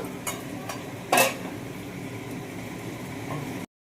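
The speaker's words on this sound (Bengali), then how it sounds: "দেখতে পাচ্ছ মাংস কষানো চলছে, মানে এই কচকচি কষানো চলছে।" Chicken gizzards braise in a little oil in a kadai, giving a steady low simmering hiss with one brief louder clatter of stirring early on; no one speaks.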